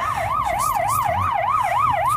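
An ambulance siren wails in a steady rising-and-falling cycle, loud and close, during a healthcare workers' protest on a Polish street, with traffic rumble underneath.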